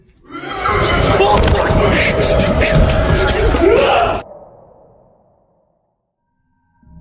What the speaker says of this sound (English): An extremely chilling, demon-like scream can be heard coming from somewhere within the building.